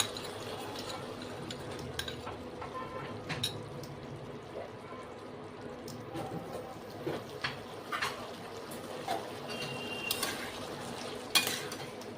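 Poppy seed paste stirred into cooked potato and ridge gourd in a pan, giving faint, soft scraping and wet mixing sounds with light utensil taps, fairly close and quiet without talk.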